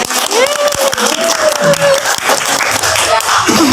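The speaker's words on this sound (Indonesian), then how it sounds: "Boleh tepuk tangan, betul." Classroom students clapping in applause, a dense steady burst of many hands close by, with a teacher's voice and a tonal sound over the clapping.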